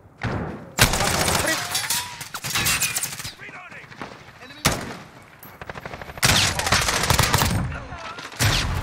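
Shotgun fire in a Call of Duty match: repeated loud, sharp blasts in irregular bursts with short gaps, mixed with other gunfire, while players talk over the action.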